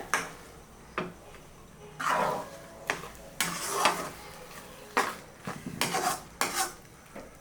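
A spatula scrapes and knocks against a pan in irregular strokes while eggs are stirred for cauliflower egg podimas, with faint sizzling between the clear metallic clinks and no talking.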